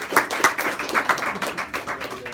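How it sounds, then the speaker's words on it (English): Brief, moderately loud rhythmic clapping from a small group at a sales team meeting, a few seconds of irregular hand claps with no talking over them. "So, Josh, let's give a big round of applause."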